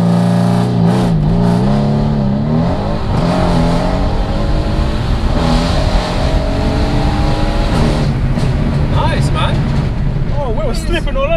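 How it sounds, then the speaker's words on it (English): A 620 bhp Mercedes C63S AMG pulls hard in fifth gear, its engine note climbing in a loud, sustained roar heard from inside the car, with people talking over it. "So in the throttle, we're in like fifth gear now and it's throwing itself forward."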